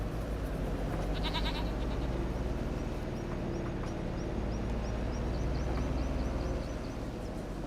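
Goats bleat in Farm Sim 25, several short nasal calls scattered over a constant low rumble of machinery, fairly faint and repeated irregularly.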